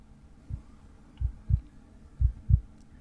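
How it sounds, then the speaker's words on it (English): A heartbeat in a soft, comforting ASMR setting thumps low and close, five soft beats spaced unevenly across a quiet background. "Just listen to the sound of my heartbeat."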